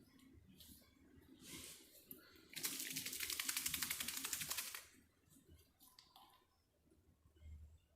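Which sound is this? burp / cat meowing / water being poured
water being poured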